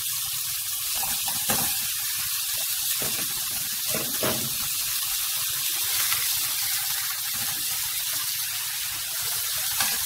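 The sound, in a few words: chicken lightly frying in a pan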